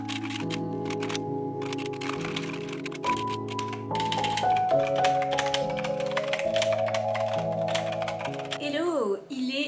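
Typing on a computer keyboard during a novel-writing session, a quick irregular clatter of key taps running throughout under a steady backing of music.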